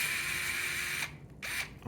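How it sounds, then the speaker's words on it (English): A power tool undoing the screws on a lantern to reach its switch, heard as a close, steady whir that stops briefly and then starts again for a short burst, with no talking. "we need to undo these 4 screws to be able to access the switch inside the lantern"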